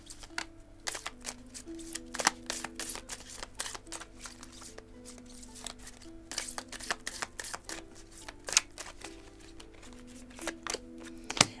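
Oracle cards from an oracle des amoureux deck are shuffled and drawn. The sound is a string of crisp, close riffling snaps and papery clicks that come in irregular bursts, with no voices.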